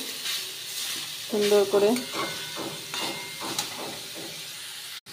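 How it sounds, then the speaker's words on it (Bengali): Grated carrot for carrot payesh gets stirred in a hot pan, a close, steady sizzle with scraping strokes of the spoon, while a brief voice speaks over it partway through. "গাজরটাকে দিয়ে ভালো করে আমি নেড়ে চেড়ে নেব"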